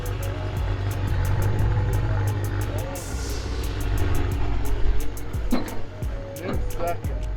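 A stock John Deere Gator fitted with a 600cc motorcycle engine drives along, its steady engine drone close and loud with bumps and rattles from the rigid rear end, and people talking over it.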